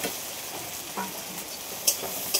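Fried okra tossed into a pan with fried egg, a steady close sizzle with a few stirring scrapes and two sharp metallic clinks near the end, no talk.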